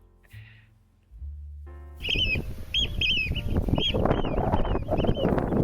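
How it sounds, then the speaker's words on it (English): Shrill calls of gulls and oystercatchers ring out repeatedly over a busy, rustling background, several birds calling excitedly at close range after a few quieter seconds, beside a loch. "There's a lot of gulls and oyster catchers getting very excited about our presence."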